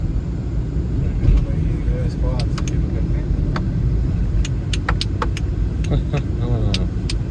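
A car drives along a road with a steady engine rumble and road noise throughout, under people talking inside the vehicle.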